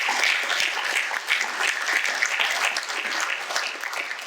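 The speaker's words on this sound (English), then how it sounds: "Give yourselves a round of applause." A crowd at an evening entrepreneurship fireside chat applauds itself, with sustained, dense clapping from many hands at close range, even in level from start to finish.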